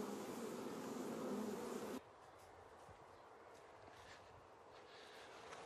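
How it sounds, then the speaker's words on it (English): Bees buzz around a garden hive in a loud, dense drone that suddenly cuts off, leaving fainter scattered buzzing from individual insects. "Well, the bees were getting a little bit angry."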